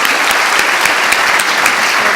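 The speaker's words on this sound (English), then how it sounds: "give these guys a huge round of applause" A large audience at a Thanks*Giving 2015 event gives a dense, continuous round of applause, loud and close, with many overlapping claps and no talking.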